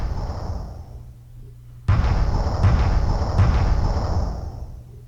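A bombing strike in the strategy game Sid Meier's Alpha Centauri sets off a sudden loud blast that rolls into a sustained, rumbling roar, with a couple of sharp follow-up cracks and no talking.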